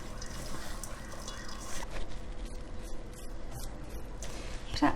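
Shredded cabbage being massaged and squeezed by hand to make sauerkraut, with steady moist squelching and crunching that grows wetter as liquid is drawn out, close and continuous with no talk.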